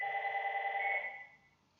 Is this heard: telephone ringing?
yes